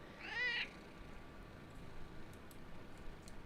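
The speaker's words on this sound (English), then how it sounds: "You know, that's a cat for you." A single cat gives one clear, close meow near the start, then only quiet room noise with faint ticks follows.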